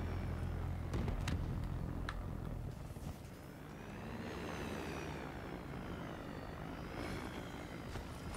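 Aircraft engine drone from an airplane passing overhead in the Black Ops 3 multiplayer game, swelling and sweeping across after a few sharp gunfire-like cracks, steady and fairly loud with no talk.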